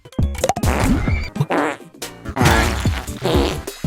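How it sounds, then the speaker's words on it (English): A run of cartoonish fart sounds from Stellar Blade plays through a PlayStation 5 DualSense controller speaker, loud and close, in several rapid, sputtering bursts of varied pitch and length with short gaps between them. "Every time a character dies in the level, they fart."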